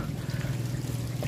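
Water trickles steadily from an artificial waterfall beside a riverside villa and glamping site, a continuous low rushing wash with no breaks and no voices.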